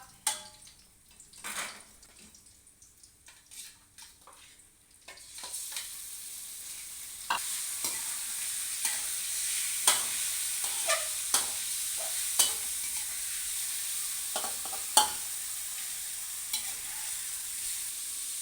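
Pork and garlic stir-frying in a pan, starting with quiet scattered clatter, then swelling into a loud continuous sizzle punctuated by repeated sharp scraping and clinking strokes of the spatula.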